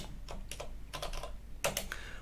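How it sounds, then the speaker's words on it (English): Fingers type on a computer keyboard during an Arch Linux setup, with a few quick keystroke clusters clattering close and clear, separated by brief pauses. "I'm just typing over here"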